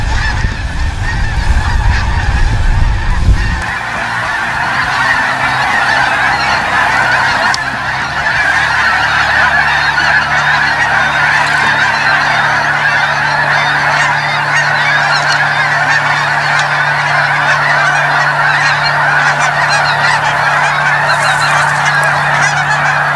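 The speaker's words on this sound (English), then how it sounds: "geese in the air" A flock of snow geese honks continuously overhead, loud and layered, the calls carrying on steadily after a brief rumble of wind or handling at the start.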